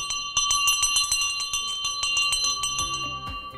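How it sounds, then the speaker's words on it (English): Old brass school hand bell rung steadily, a fast continuous clanging with bright ringing overtones, close and loud, with no voices. "This is a bell used before PLC Sydney introduced automated school bells in approximately the 1960s."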